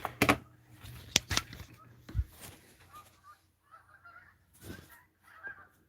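Geese honking outdoors in autumn, a few loud close calls early, then fainter scattered honks drifting off into the distance as the flock moves away.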